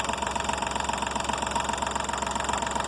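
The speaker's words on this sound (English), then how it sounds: "So now let's start the engine and see what difference that makes, if any." A VW Polo engine idles steadily with a faulty alternator that is not charging the battery, giving a constant close mechanical hum with a fine, even ticking pulse throughout and no voices.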